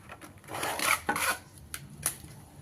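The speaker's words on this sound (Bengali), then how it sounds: "এইভাবে কুচিয়ে দেবো দেখাই একটু মোচাটা" A knife chopping banana flower (mocha) on a board, with a few scraping, rasping cuts spaced irregularly, fairly close and moderately loud.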